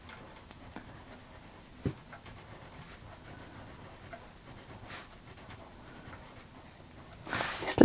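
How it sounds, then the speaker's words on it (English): A colored pencil burnishes a colored-in area on paper, giving a faint, steady rubbing scratch with a few soft taps and a louder rustle at the end. "I'm just going to burnish it"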